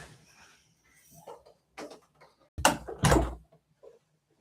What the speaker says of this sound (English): One moment, I need to close my door.